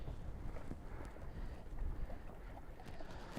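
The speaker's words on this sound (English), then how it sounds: "Whew, windy." Steady wind buffeting outdoors over an open lake, a constant rough rumble with gusts and faint splashing, no voices.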